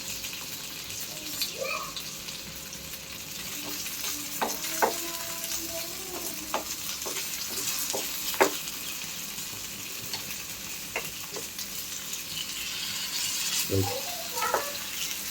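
Fish fries in coconut oil after being flipped, a soft steady sizzle with occasional light pops and utensil taps close by.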